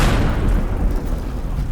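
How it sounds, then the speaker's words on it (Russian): A loud, deep boom rumbles through the whole moment of an explosion in the video game Teardown, with no talk over it. "будет такой бабах"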